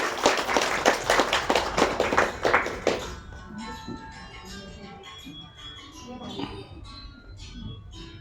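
An audience claps in a rhythmic, evenly spaced beat for about three seconds, then the clapping stops abruptly, leaving quieter room sound with faint talk and a few soft tones.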